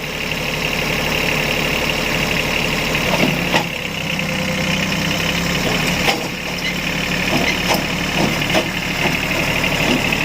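A Kubota B1-14 three-cylinder diesel tractor engine idles steadily nearby, a loud, even chugging drone with occasional knocks and clatters.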